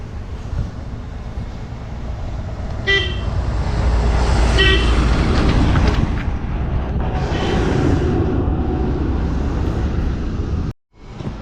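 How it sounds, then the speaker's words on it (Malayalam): Heavy vehicles rumble past one after another with loud engine noise and a couple of horn toots, close by on a busy road. "ഫുള്ള് വണ്ടികളൊക്കെ വരുന്നുണ്ട് കേട്ടോ"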